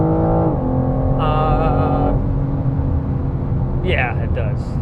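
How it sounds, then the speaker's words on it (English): Loud, steady engine drone from inside a 2021 BMW M4 Competition on the move, a constant low rumble with shifting tonal whines layered on top. "today I'm in the brand new 2021 BMW M4 Competition"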